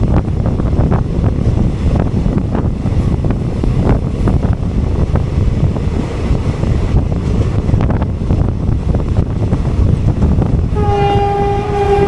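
Ananthapuri Express passenger train arriving on the opposite track at a Kerala station, a steady loud rumble of wheels and carriages with wind buffeting, ending in a sustained tonal horn blast.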